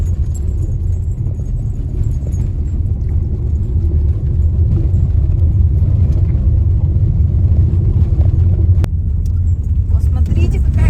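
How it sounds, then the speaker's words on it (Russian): A car driving over a gravel road on a long trip through Yakutia, with a steady, loud low rumble and rattling throughout as everything inside shakes; people talk over the noise. "А мы едем по гравию, поэтому все трясется."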